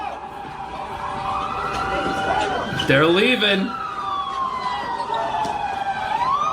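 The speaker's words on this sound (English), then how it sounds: "Oh, you hear the police?" Police car siren wailing through a ransacked shopping area, a clear rising and falling tone that sweeps up sharply midway and continues at moderate distance, with someone talking over it.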